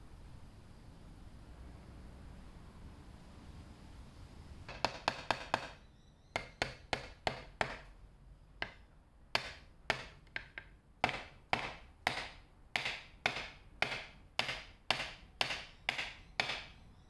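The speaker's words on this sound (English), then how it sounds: "it's definitely best hammering in the sides first and then the middle" Fret wire is hammered into a guitar fretboard during a refret. After a quiet stretch, a long series of sharp, close taps comes in a fairly even rhythm, with pairs of lighter blows mixed among heavier strikes.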